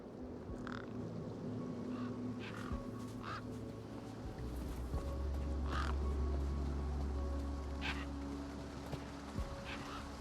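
Desert birds caw repeatedly in the Beyond a Steel Sky video game, several short harsh calls spaced across the scene over a steady low ambient hum and game music, moderately distant.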